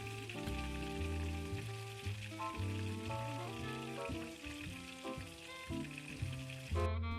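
Chicken marinated with fresh turmeric, garlic and salt fries in oil, giving a soft, steady sizzle that sits faintly beneath louder melodic background music.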